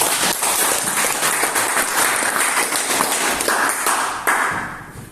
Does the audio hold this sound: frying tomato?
no